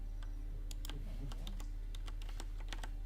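Rapid bursts of keystrokes on a computer keyboard at a game developers conference, with uneven clusters of clicks over a steady low hum, no voices.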